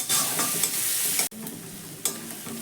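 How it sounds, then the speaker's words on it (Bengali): Ginger, garlic, green chilli and onion fry together as they are stirred. A close, steady sizzle runs with spatula scrapes, and a sharp knock around the midpoint leaves the frying quieter afterward; no speech. "আদা রসুন আর কাঁচা লঙ্কাটাকে ভালো করে একটু পেঁয়াজের সঙ্গে নাড়াচাড়া করে ভেজে নিতে হবে"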